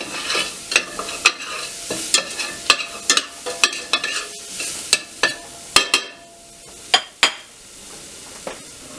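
Whole spices with cloves warming briefly in a pot for a French Canadian tourtière meat filling, heard as a soft close sizzle with a run of sharp scraping, stirring clinks against the pot, no talking.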